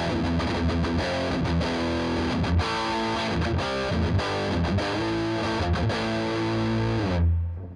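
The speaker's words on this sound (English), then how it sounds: "Let's go ahead and bump up the drive all the way and see what kind of gain tones we can get out of this" An electric guitar plays through a Paul Reed Smith amp with the drive turned all the way up, giving a thick, saturated, distorted tone. Chords ring continuously and loudly for several seconds, then cut off abruptly near the end.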